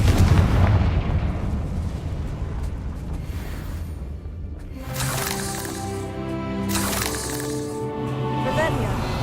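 Confringo blasting curse going off in Hogwarts Legacy, a loud burst of crackling, booming explosive impacts with rumbling debris, followed by a bright ringing magical shimmer, heard alone without talk.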